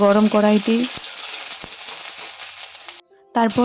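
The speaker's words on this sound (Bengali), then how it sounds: "গরম কড়াইতে তেল দিয়ে শুকনো লঙ্কা, গোটা জিরে, তেজপাতা, গোটা গরম মশলা দিয়েছি।" Dry red chilies, cumin seeds, bay leaf and whole garam masala fry in hot oil in a pan, giving a soft sizzling hiss between stretches of someone talking, with a few faint crackles.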